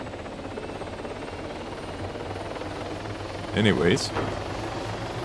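A helicopter in the video game ArmA 3 drones steadily in the background. A short spoken remark rises briefly over it.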